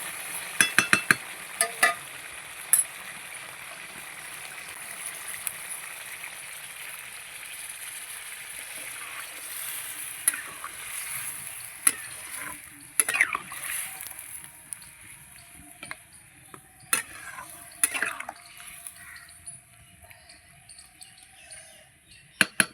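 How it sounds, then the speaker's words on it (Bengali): Water is added to chicken cooking in a hot pan with goat fat instead of oil, bringing a loud, lasting sizzle broken by sharp scrapes and clacks of stirring, with occasional talk. "এবার জল দিয়ে দেবো।"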